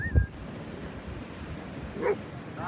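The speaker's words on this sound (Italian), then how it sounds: "Mi intrattengono un sacco i cani durante questi miei turni in torretta" A couple of brief dog barks or whines, one at the start and one later, heard from a beach lifeguard tower over a steady wash of surf and wind outdoors.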